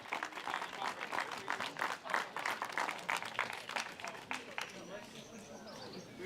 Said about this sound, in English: 1 big final round of applause for your